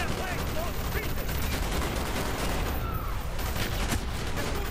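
Continuous gunfire from Call of Duty: Black Ops, dense rapid bursts and shots layered over loud game noise throughout, with a voice faintly mixed in.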